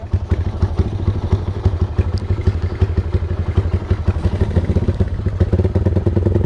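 A Honda MP Naked motorcycle engine runs steadily after sitting unused for five days, its low, rapid putter pulsing evenly and close by, with a faint clattery rhythm throughout and no voices.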